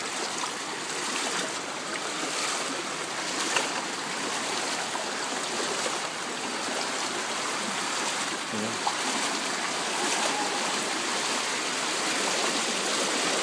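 Floodwater current flows steadily past a flooded street and parking area, a continuous broadband rushing wash with no pauses, moderately loud throughout.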